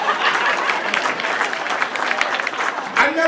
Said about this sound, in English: Clap it up for them too